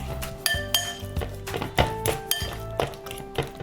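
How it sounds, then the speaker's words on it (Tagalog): Ripe bananas are mashed and stirred in a bowl for banana bread batter, producing a steady run of dull thunks and light clinks of utensil against the bowl, close up and moderately quiet, with no talking. "Tapos mash lang natin. Halu-haluin"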